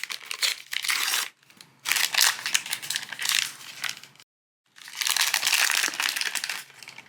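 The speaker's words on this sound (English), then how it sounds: "let's tear this open" A plastic packet from a Pudgy Pig toy is torn and crinkled open: three bursts of loud, close crackling and ripping separated by brief pauses.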